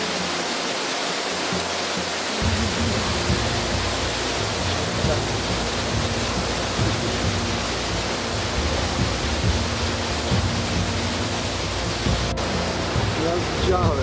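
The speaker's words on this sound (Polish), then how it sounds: "Będzie ten wodospad." A waterfall in Martvili Canyon, Georgia roars as a constant broadband rush of falling water, steady and close, continuing without a break after a brief quieter start.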